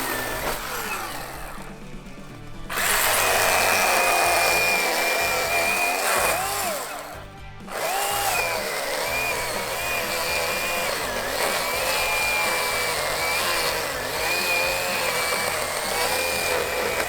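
A chainsaw cutting logs on a rural Idaho homestead roars steadily, growing louder as it bites into the wood and dropping out twice for brief pauses, heard up close and with no talk.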